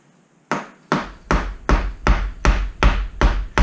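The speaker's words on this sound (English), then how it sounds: "Get it started with the hammer. I always use a soft mallet," A soft mallet taps a motorcycle fork seal into place: eight sharp, close knocks in a steady, quickening rhythm, each with a short ring, and no talk.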